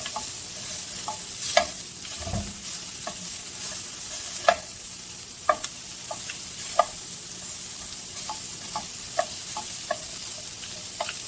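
Onions sautéing in a pan, a steady soft sizzle with sharp intermittent clicks and taps as a utensil breaks them apart.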